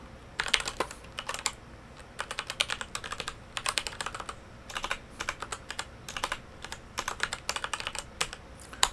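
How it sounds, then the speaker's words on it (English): Quick bursts of typing on a computer keyboard, close and crisp, come in short clusters separated by brief pauses while code is entered, with no one speaking. "and I type in."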